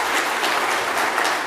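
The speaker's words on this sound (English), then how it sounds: "Give him a round of applause" A short burst of steady applause from a crowd at a political leadership debate, even and dense throughout.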